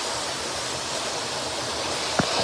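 Water swirls and rushes steadily in a natural whirlpool, a dense continuous wash of noise near the mic with a brief splash toward the end.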